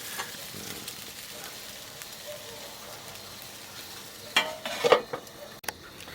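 Chicken fries with masala in a pan, giving a low, steady sizzle with occasional stirring scrapes and a couple of louder clatters near the end.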